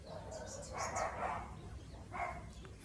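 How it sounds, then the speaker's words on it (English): Dogs bark at other dogs walking past, a few faint distant barks in short clusters over a soft outdoor background, with a person speaking throughout. "The dogs are saying hello to the other dogs walking past"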